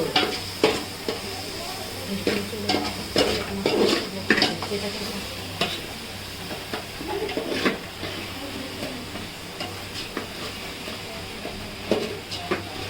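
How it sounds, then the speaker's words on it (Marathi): Chili coriander gravy cooking in a pan over a fire by the sea at night: a soft sizzle runs throughout, with repeated stirring scrapes and clinks from a utensil against the pan. "मिरची धाण्याची ग्रेव्ही मिरची धाण्याची ग्रेव्ही टाकली"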